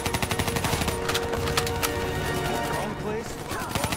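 Rapid automatic gunfire lays down cover fire in Call of Duty Black Ops III, with dense, continuous bursts of shots rattling close and loud for the whole stretch.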